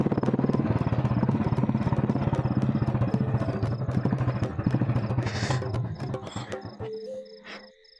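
A motorcycle engine sputters into a loud, rough, pulsing run right up close, with steady low chugging that thins out and fades over the last couple of seconds.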